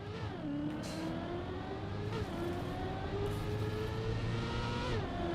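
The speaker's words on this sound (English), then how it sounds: "The engine is suddenly so loud when you're going forwards." A car engine in the Trackmania racing game revs and accelerates, pitch climbing in repeated sweeps with brief drops between gear-like steps, a steady moderate whine with no talking.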